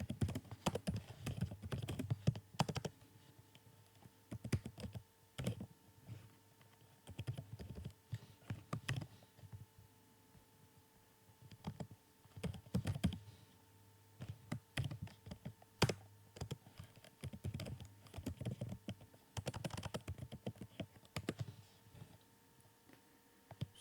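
Quiet keystrokes on a computer keyboard while entering Python Pandas code in Google Colab, coming in irregular bursts of clicks with short pauses between, close and soft, no one talking.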